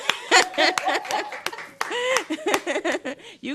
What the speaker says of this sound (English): You got some big claps on that one.